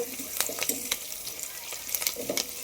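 A spoon scrapes through dal with Kondapindi leaves in a pan, giving a sequence of sharp clinks and scrapes over a soft sizzle.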